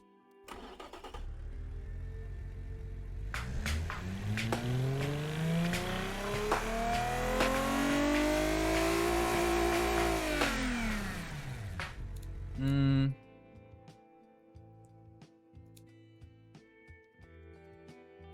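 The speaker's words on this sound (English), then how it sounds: "Why is it backfiring so much?" A car engine in the BeamNG driving game, with a custom exhaust being tuned, revs up in a long rising and falling sweep, then lets out a loud burst of backfire pops before settling to a quieter idle with scattered crackles.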